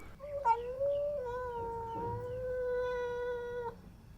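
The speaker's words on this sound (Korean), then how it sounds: "결국 제가 데리고 온 고양이들입니다" Cats meowing up close, several drawn-out calls running together with one long wavering meow, loud and clear against a quiet indoor background.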